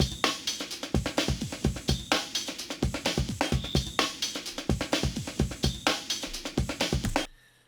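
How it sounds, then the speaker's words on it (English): An old-school rave drum break from Ableton's White Label Old School Rave pack: a punchy, steady breakbeat of crisp kicks, snares and hats, loud and busy, running for several bars before stopping abruptly. "the drum break sounds like this"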